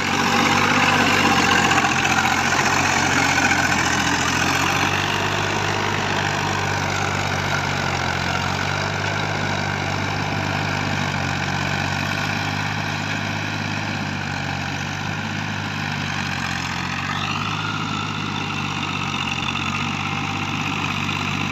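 A 1979 Italian-made Fiat 450 tractor engine idles steadily and loudly up close, a continuous diesel rumble with a constant, even beat and no speech.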